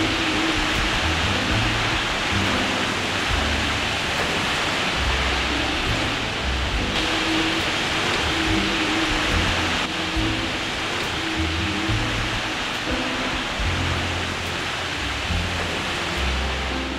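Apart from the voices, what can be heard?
heavy rain from Tropical Storm Olga on a sailboat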